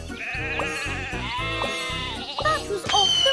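Sheep on the tracks in a kids' train video game bleat several times over a bouncy, rhythmic game soundtrack, loud and close, with the bleats overlapping the music.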